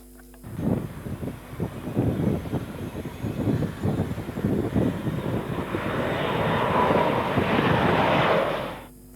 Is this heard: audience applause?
no